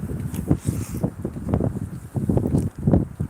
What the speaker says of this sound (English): Yes, it's windy